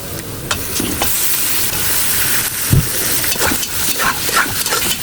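Bone-in mutton or beef frying in a pan gives a steady, close sizzle with stirring clatter and a few sharper scrapes, no talking over it.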